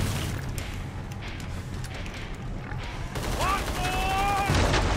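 Rapid gunfire bursts in a video game, dense overlapping shots with a louder flurry near the end, while faint voices talk underneath.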